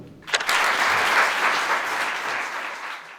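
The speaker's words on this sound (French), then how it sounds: "faites un maximum de bruit pour Tom" Audience applause welcoming a speaker at an evening event in Paris: a sustained burst of clapping from a crowd indoors, starting sharply and holding steady before easing slightly toward the end.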